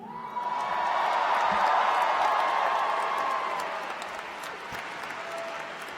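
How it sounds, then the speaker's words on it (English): Sustained audience applause fills a graduation convocation hall, a dense wash of many hands clapping that swells over the first seconds, holds steady, then gradually tapers off. "Can we get a round of applause for our outstanding grads and Impact awardees?"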